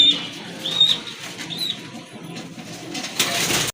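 A pair of red pigeons coo in soft, repeated bursts, close by, with some rustling and a brief noisy scuffle near the end; no voices.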